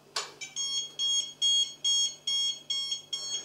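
A HiSKY FBL100 flybarless nano helicopter alarm sounding because the throttle stick is up: a steady run of about eight short, bright electronic beeps at even intervals, close and clear, after a brief click at the start.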